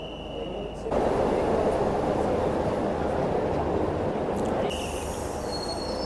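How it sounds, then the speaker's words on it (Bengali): Train pulling into Srinagar station platform, a loud continuous high-pitched squeal of wheels on rail, with steady rumble and grinding held close for most of the passage. "আর আমাদের ট্রেন শ্রীনগর প্ল্যাটফর্মে ঢুকছে।"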